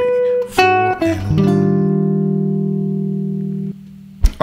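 Jazz guitar playing a short 2-5-1 line of a few plucked notes that resolves to one long sustained chord fading over several seconds, ending with a brief click, with no voices.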